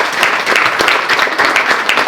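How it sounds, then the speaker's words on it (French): An audience at an expo applauds the service staff, loud dense clapping from many hands held steady and close throughout. "je vais vous demander vraiment d'applaudir notre équipe d'agents"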